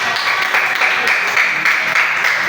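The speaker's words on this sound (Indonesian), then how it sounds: "Yeay, tepuk tangan." Schoolchildren in a classroom clap together, a dense, loud, continuous patter of many small hands lasting a couple of seconds.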